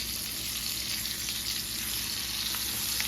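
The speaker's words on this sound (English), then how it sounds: "You want to preheat your skillet and put your chops down in there." Pork chops sizzle in a preheated skillet over medium heat, a steady, even crackling hiss with faint pops, alone and fairly quiet throughout.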